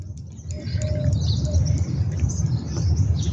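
Birds chirp outdoors in scattered short calls, some faint and some closer, over a steady low background hum.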